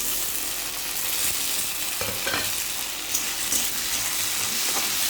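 Chopped tomatoes frying in a pan with medicinal thonthoni greens for an Assamese shaak dish make a dense, continuous close sizzle with occasional stirring scrapes, and there is no talk.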